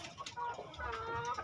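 A hen, a laying breeder chicken, clucks in short, irregular bursts, fairly close but quiet, alone without talk.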